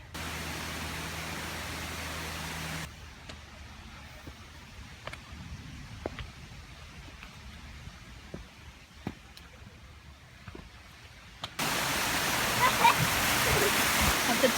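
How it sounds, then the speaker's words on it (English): A natural waterfall gives a broad, steady rushing hiss that swells loudly at the start and end, with a quieter stretch between and faint taps in the middle. "Beautiful waterfall."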